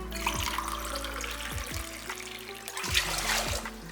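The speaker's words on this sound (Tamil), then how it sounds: "இதில் ஒரு 4 டம்ளர் அளவுக்கு தண்ணி ஊற்றிக்கிறேன்" Water pours steadily into a cooking pot, a close trickling splash with small gurgles, heard on its own without any voices.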